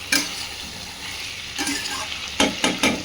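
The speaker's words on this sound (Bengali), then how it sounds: "এবার খাসির মাংসটা খুব ভালোভাবে কষাবো।" Mutton stir-fried in a pan with ground spices, a constant close sizzle broken by a few sharp scraping stirs near the end, with no voices.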